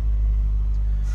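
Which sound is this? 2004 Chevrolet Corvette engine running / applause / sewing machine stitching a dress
2004 Chevrolet Corvette engine running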